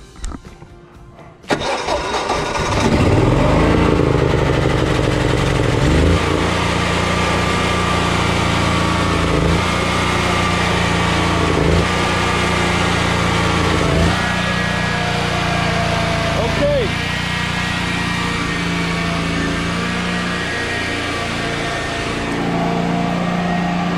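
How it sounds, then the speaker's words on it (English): A Generac portable generator with a homemade choke button cranks briefly, catches and settles into a loud, steady engine drone that runs close by with slight surges throughout. "As you can probably tell, that generator is really loud."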